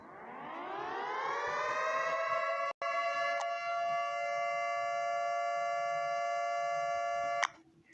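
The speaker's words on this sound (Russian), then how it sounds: "Это первая сирена." A nuclear air-raid alarm siren from a phone app rises in pitch and then holds a loud, steady harmonic wail for several seconds, broken by a brief dropout and cut off with a click near the end.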